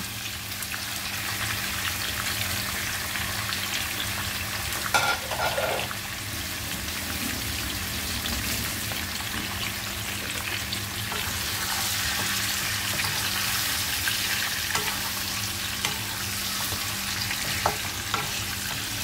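Chicken frying with curry leaves in a pan for Kerala chicken kondattam gives a steady, dense crackling sizzle that stays level throughout, with an occasional stir or clink of a utensil.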